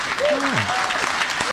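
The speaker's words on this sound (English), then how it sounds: "Oh, big round of applause for the shit queen." Audience applause for a podcast guest, a steady broadband clapping wash lasting about a second and a half, with a voice cutting through the clapping.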